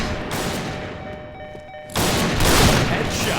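Sniper rifle fire in the shooter game Point Blank: a quieter stretch with faint steady tones, then a loud, sustained burst of sharp gunfire that fills the rest.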